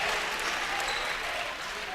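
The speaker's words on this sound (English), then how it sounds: "the crowd's giving him a nice round" A college basketball crowd claps as a player checks into the game, a steady wash of applause at a moderate, fairly soft level throughout.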